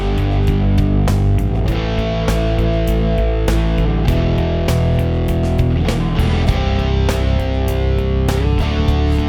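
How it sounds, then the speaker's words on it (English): A distorted rock guitar riff picked with harder attack, thick sustained chords broken by sharp percussive strums and muted hits, loud and continuous, with no talking over it. "Here start to attack harder to get the distortion out more."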